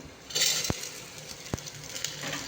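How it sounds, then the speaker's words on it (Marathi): Green peas are tipped into sautéed onions in a pan, bringing a soft hiss of frying and two sharp knocks of a spoon against the metal. "तर आता कांदा परतल्यामुळे मटार टाकूयात आपण।"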